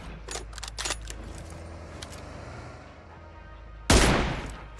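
Sniper rifle fire in the mobile battle-royale game PUBG Mobile, with several sharp cracks early on, a quieter stretch, then one loud blast near the end that trails off.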